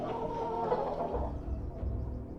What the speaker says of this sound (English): Those damn chickens!